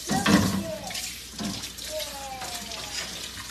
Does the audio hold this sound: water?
yes